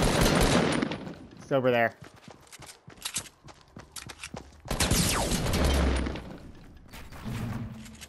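Gunfire pops and bursts of fighting in an army video game, a rapid series of sharp shots amid game sounds, with players talking over it.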